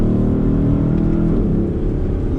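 A Lexus LC500 Convertible's engine pulling hard under acceleration, a loud, continuous deep drone that holds steady and eases slightly toward the end.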